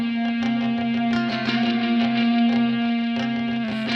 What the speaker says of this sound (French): j'ai mes guitares, elles sont dans la même reverb